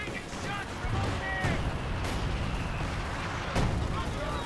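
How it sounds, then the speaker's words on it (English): In the strategy game Company of Heroes 2, during a 3v3 match, mortar and artillery shells land as a string of muffled, moderately faint booms and thuds, with a voice talking over them. "Gets absolutely decimated by the mortars and the artillery."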